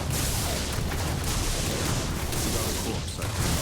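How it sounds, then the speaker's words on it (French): Corpse explosion skill in Diablo Immortal, played as a level 60 Necromancer: a dense, continuous roar of blasts and crashing effects, loud and sustained, with someone speaking French under the din. "L'explosion morbide dans toute sa splendeur."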